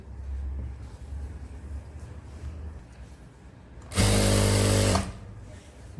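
A sewing machine stitching a man's shirt runs in one loud, steady burst of about a second, preceded by quiet handling noise and room hiss.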